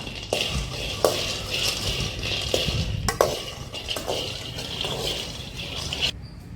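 Peanuts and dried red chillies roast in a pan, stirred with a utensil that scrapes and clinks against the metal in a busy, steady rattle, with a couple of louder knocks.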